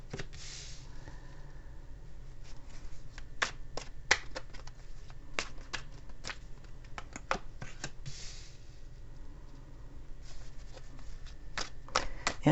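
Tarot cards are shuffled by hand close up, a series of quick riffling bursts and sharp card flicks over a quiet background hum, with no talking.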